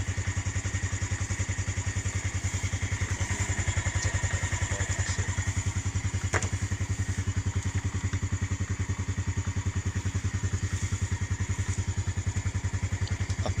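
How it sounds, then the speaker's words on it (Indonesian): A Yamaha Jupiter motorcycle engine idles steadily at close range, running to charge a Honda Brio's battery during a power outage, its even rapid putter continuing throughout with a few faint clanks and a thud. "Mencoba dicas melalui pengisian motor Jupiter"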